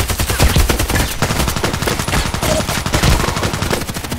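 Val Cobra gunfire in the online shooter Contract Wars, a loud, steady rapid stream of close shots with sharp repeated cracks throughout and no talking.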